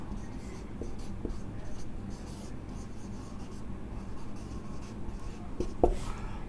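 Chalk or pen scratches steadily across a board as a chemical reaction equation is written out, producing continuous soft rubbing and scraping with brief taps, over a low background hum.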